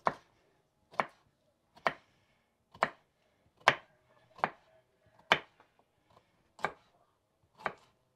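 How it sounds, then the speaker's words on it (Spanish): A knife chops carrots into rounds on a cutting board, giving nine crisp, evenly spaced strikes about one second apart, close and clear with quiet gaps between them. "las zanahorias van a ir así, miren, en rueditas"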